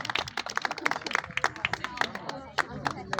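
Audience clapping to welcome a singer on stage at a holiday concert, a burst of sharp, uneven handclaps with cheering voices mixed in, fairly close and lively throughout.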